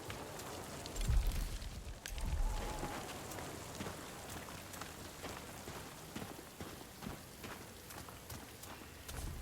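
Steady rain patters on surfaces in the video game No Rest For The Wicked, with a low rumble early on, then an even hiss of drops that continues quietly throughout.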